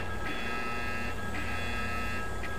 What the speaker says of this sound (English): We have a boiler alarm.